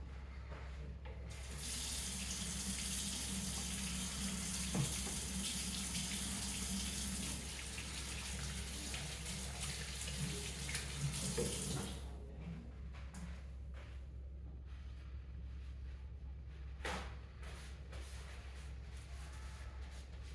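A kitchen tap runs steadily while hands are washed, a close, full rush of water that drops to a softer trickle partway through, with a faint clink near the end.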